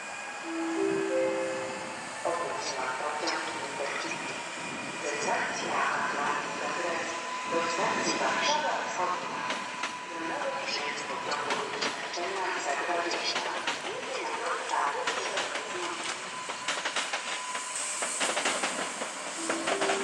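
A train rumbles through Warszawa Zachodnia station continuously with steady hissing, clattering wheels and metallic squeals, loud and close, with voices occasionally audible under the noise.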